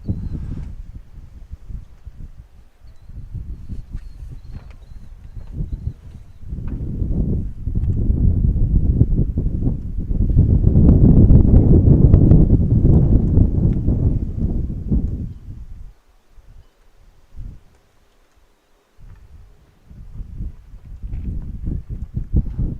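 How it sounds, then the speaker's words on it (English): Strong gusts of wind buffet the microphone at an outdoor middle school baseball field, rising and falling in loud rumbling surges that swell to a peak midway and then drop to near quiet before picking up again. "it's just so windy"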